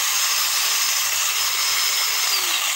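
A cordless battery chainsaw body powered by a 15-cell pack runs at a steady, loud high-pitched whine for a few seconds, alone without talk.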